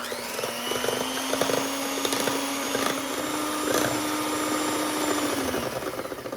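An electric mixer beats four eggs with sugar and a pinch of salt, a steady whirring motor drone with rattling and scraping against the bowl, close and continuous throughout.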